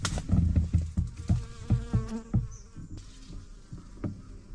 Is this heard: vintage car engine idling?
no